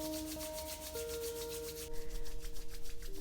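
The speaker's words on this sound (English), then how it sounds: "we're going to rub the palms" Two palms rubbed briskly against each other, a steady dry swishing friction that grows louder and more pulsing toward the end, heard close with soft background tones and no talking.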